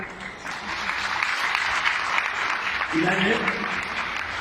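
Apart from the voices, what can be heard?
audience applause at a convention Q&A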